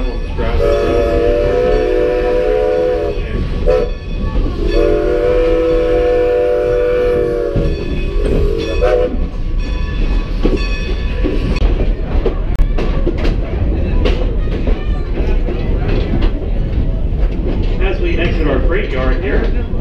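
Strasburg Railroad steam train in Lancaster, Pennsylvania, sounding a loud sustained horn twice in the first half, then rumbling and clattering steadily along with faint voices mixed in.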